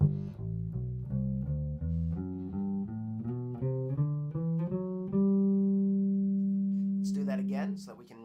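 Electric bass guitar plays a quick run of rising plucked notes, then settles on one long note that sustains and slowly fades.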